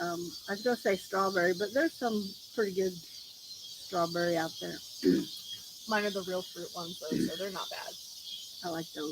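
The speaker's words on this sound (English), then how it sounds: "But I'm sure you can hear the cicadas in the background." A steady, high-pitched cicada drone buzzes continuously in the background while a person talks over it.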